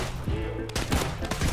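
Desert Eagle pistol shots in the Roblox game Criminality, a few sharp booming reports spaced roughly a quarter second apart, loud and close over constant game noise.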